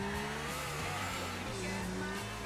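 A car in the video game GTA IV drives along with a steady engine drone and shifting revs, heard close throughout while players talk over it.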